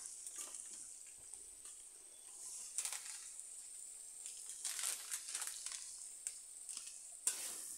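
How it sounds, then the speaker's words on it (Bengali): Spiced fried cauliflower and potato pieces being stirred and tossed in a pan, with a steady soft sizzle under irregular scraping and crunchy stirring strokes, close and moderately quiet, no talking. "এবার মশলার সাথে ফুলকপি আলু ভাজাগুলোকে ভালো করে মিশিয়ে নিতে হবে।"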